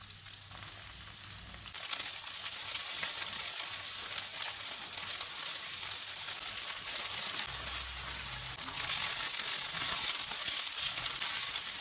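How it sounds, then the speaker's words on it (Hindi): Chicken pieces frying in hot oil over low heat, a dense, even crackling sizzle that stays constant and close throughout, growing a bit louder near the end, with no voices. "ऑयल गर्म हो गया, इसमें चिकन के पीसीज रखेंगे। चूल्हे को कम रखेंगे, इनको गोल्डन ब्राउन होने तक पकाएंगे।"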